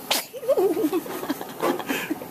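A tiny, soft sneeze from a baby, close by, followed by small squeaky vocal sounds and quiet breathing.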